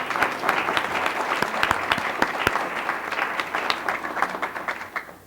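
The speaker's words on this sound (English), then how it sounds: "Please give her a round of applause." A round of applause from the audience at a formal board meeting: steady, moderately loud clapping from a roomful of people that lasts about five seconds and tapers at the end, with no speech over it.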